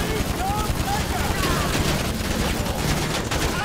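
Rapid gunfire rattles through a casino heist video game shootout, dense overlapping shots and bursts running continuously, with a voice talking in the mix.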